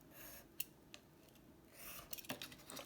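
Scissors cut paper along drawn lines for a handmade Christmas planner, making faint, close snips and a soft rustling crunch, a few isolated cuts and then a quicker cluster, with no talking.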